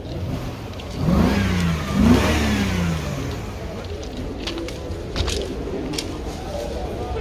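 A 2016 Chevrolet Impala with a 2.5-litre engine and automatic gearbox revs twice in quick succession, the engine note rising and falling close by before settling into a low idle with background chatter.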